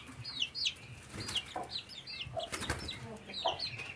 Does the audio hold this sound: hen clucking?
yes